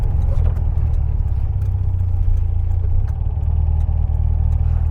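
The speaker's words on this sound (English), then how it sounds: "if I stamp on the throttle, the accelerator pump is going to give it a shot of fuel as well" A car engine fitted with Weber IDF carburettors revs loudly and steadily up close, a deep continuous rumble with throttle blips.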